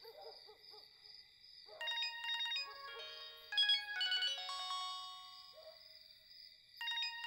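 Mobile phone ringtone playing in repeated melodic bursts, separated by short pauses, fairly faint and distant, preceded by brief hooting-like tones with no talk over it.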